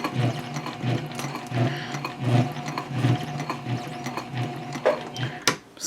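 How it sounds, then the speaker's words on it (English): A sewing machine stitches through backpack fabric with a steady close mechanical clatter of rapid repeating needle strokes, running continuously without talk until a sharper clunk near the end. "It's actually sewing through easier than I thought it would."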